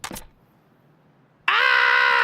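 A person imitating a goat: after a brief sound and a pause comes a loud, sustained, strained bleat held steadily to the end, close and alone.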